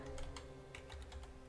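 Fast keystrokes on a PC computer keyboard while entering a character name in Dark Souls 3. The clicks come in an uneven stream and sit over a steady, low in-game music drone.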